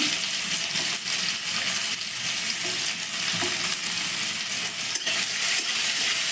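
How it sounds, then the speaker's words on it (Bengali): Chopped onions fry in a pan for a spicy prawn curry, giving a steady, loud sizzle with light stirring scrapes throughout and no one talking. "পেঁয়াজটা একটু ভাজা ভাজা করে নেব"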